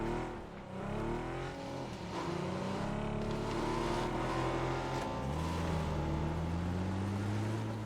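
Car engine in PUBG revving and accelerating steadily, a loud continuous droning roar with rising and falling pitch sweeps throughout, no talk over it.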